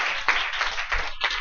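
Students in a classroom clap in a few quick scattered bursts, moderately near and not very loud, with no talking over them.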